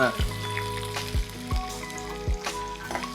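Finely chopped onion hitting hot oil and sizzling, under a voice that speaks over the cooking and several dull low thumps spaced through the short stretch.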